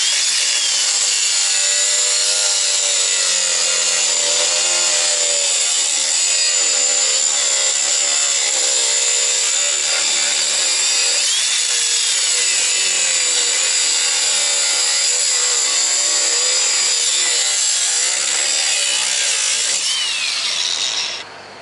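A power saw grinds steadily and loudly through wood for about twenty seconds without pause, then cuts off abruptly at the end.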